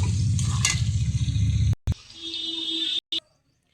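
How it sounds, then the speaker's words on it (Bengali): Potatoes, whole garlic cloves and jackfruit seeds dropped into hot oil with salt and turmeric, a brief loud sizzle and stirring clatter for under two seconds, then cut off, with faint bird chirps in the background. "আলু, গোটা রসুন, গোটা কাঁঠালের বিচি একসাথে ভেজে নেব।"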